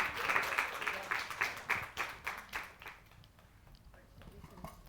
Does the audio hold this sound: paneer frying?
no